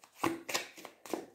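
A deck of tarot cards is shuffled by hand in three or four quick riffling bursts, soft and close, with no talk over them.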